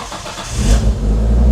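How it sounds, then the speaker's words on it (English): A Nissan Skyline engine cranks and fires up close by, settling into a loud steady idle with a brief rise in revs, no voices present. "So why don't we start the car and we will press on to activate the ABS pump."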